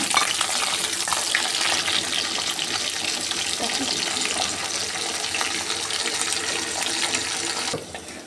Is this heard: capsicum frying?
yes